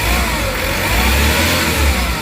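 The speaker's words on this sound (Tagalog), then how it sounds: "Yung galit ng makina, talagang solido yung tunog" Diesel engine of a Hyundai H100 van, revving under load at close range, a loud steady low rumble with heavy bass and continuous drone, no speech over it.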